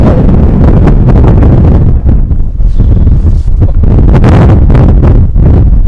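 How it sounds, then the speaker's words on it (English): Heavy wind buffets the microphone on a Scottish hillside near Craigowl, a loud continuous rumble with gusty bursts throughout, and no voices. "It's very windy."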